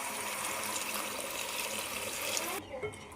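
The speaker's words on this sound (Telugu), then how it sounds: "వాటర్ పోసేసుకున్నాం" Water pours steadily into a pan of potato and egg curry for a couple of seconds, then stops abruptly, leaving a few faint clinks and quiet room noise.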